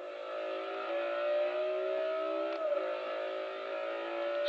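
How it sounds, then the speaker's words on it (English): Nissan 350 engine in a racing video game, a steady mid-pitched drone held at constant revs with a brief dip and recovery, heard fairly quietly and alone. "This car sounds sick."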